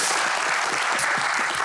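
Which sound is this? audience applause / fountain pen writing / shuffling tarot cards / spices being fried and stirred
audience applause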